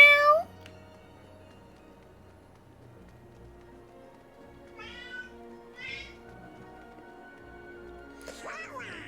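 A cat in a Kingdom Hearts video game meows clearly at the start, followed by a few softer chirping mews and another short meow near the end over quiet background.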